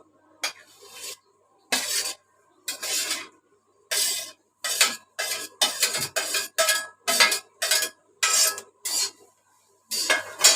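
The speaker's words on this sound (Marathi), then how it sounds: "आता मी भेंडी भाजून घेते पहिली।" Okra being dry-roasted on a hot tava, with about a dozen bursts of scraping and stirring strokes against the metal pan, each rasp followed by a short pause in an even rhythm, close by with no talk.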